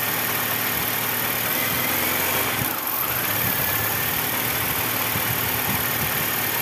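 A BMW E90 petrol engine held at about 1500 RPM with a pedal sensor fault, giving a steady, loud, close mechanical hum with a slight dip partway through and no talking over it.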